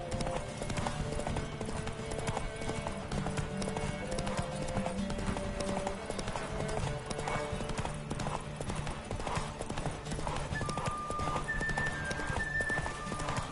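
Rhythmic hoofbeats of a horse galloping in a race in The Witcher 3 video game, steady throughout, with a brief whinny and faint game music tones in the background.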